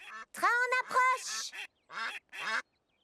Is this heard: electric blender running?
no